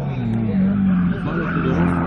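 An Opel Corsa rally car drives through a rally training stage in Burgas, its engine droning steadily and loudly throughout with strong low harmonics, while a commentator talks over it.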